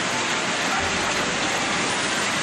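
Rain pours outdoors on Christmas Day, a steady, dense hiss that fills the scene evenly from start to finish with no voices over it.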